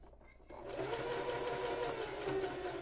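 A sewing machine stitches a fabric water bottle holder, a quiet start giving way to a steady, rapid mechanical whir that continues close by until the end, with no talking.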